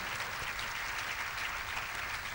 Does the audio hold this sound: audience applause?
yes